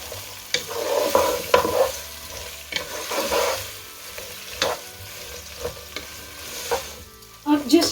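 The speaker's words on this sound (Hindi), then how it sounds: "इनको अच्छे से मिक्स कर लेंगे।" Sliced onions with green chillies frying and being stirred in a pan for an onion-tomato masala gravy, a steady sizzle broken by repeated scraping stirs and clinks, up close.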